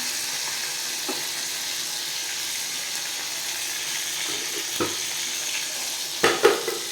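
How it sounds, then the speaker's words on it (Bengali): Fish fries in a pan with a steady, moderate sizzle, punctuated by a few sharper pops and clatters near the end, no voices. "মাছ ভাজতে দিয়ে বসিয়ে দিয়ে গেছি"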